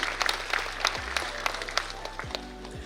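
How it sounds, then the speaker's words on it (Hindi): Applause from an audience at a National Mathematics Day celebration at Gyan Bhawan, Patna, honouring students, fairly faint and steady with scattered sharper claps over a low background hum. "जोरदार तालियां होनी चाहिए बच्चों के लिए।"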